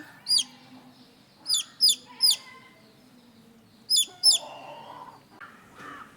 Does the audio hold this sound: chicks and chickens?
yes